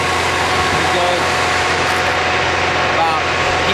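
A tractor engine droning steadily during a night harvest on the farm, loud and close, a constant low rumble with no pauses.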